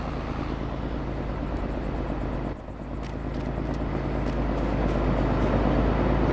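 A JCB vehicle engine in the farming game Farming Simulator 22 drones steadily, with a short dip partway through before the hum builds a little louder and holds to the end.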